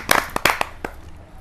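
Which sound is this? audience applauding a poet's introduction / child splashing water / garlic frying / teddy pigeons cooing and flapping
audience applauding a poet's introduction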